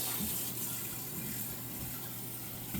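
Running tap water pours steadily into a kitchen sink during a rinse, a continuous close gushing hiss with no voices.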